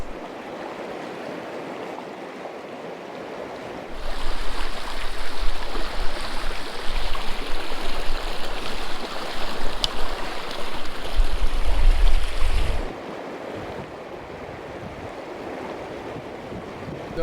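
River water rushes and splashes around a raft drifting downstream in the Sierras, a broad steady wash that grows louder and rougher for several seconds, with wind buffeting the microphone, then eases back to a calmer flow.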